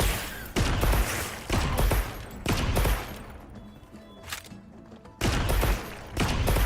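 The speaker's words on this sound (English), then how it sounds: "we'll shoot right at this center bone" Repeated bursts of rapid weapon fire in Monster Hunter Wilds, loud clustered volleys separated by short pauses, with quieter mechanical sounds in between.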